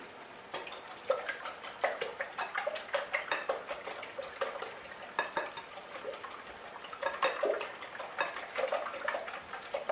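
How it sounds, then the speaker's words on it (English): A whisk beats eggs in a bowl for a Spanish tortilla, giving a fast, steady run of light metallic ticks and clicks close by, with no voices. "let's beat or whisk the eggs"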